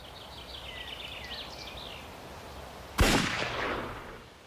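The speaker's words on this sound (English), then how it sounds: "Beside the Maas near Verdun, Stülpnagel reaches for his service pistol." A service pistol fires a single sharp, loud shot beside the Maas near Verdun, ringing out after a few seconds of faint birdsong and then decaying quickly.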